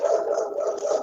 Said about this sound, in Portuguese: Ai, os cachorros.